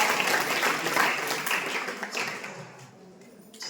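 A Jain religious class audience claps together in response to a child's correct answer, a dense wash of clapping that stays steady for a few seconds, then thins and fades toward the end.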